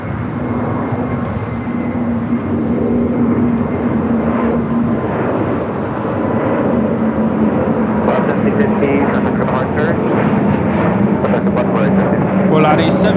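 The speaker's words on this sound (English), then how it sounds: "1715 taking off to Guadalajara on the A320neo in the Wicked livery" Volaris Airbus A320neo taking off from LAX, a steady loud roar of jet engines throughout, with someone talking over it.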